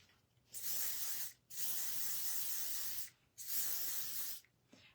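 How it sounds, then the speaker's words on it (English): Hairspray hisses from an aerosol can onto primitive dog bones in three long, loud bursts with short pauses between them, close and clear. "And then I'm going to spray the hairspray again."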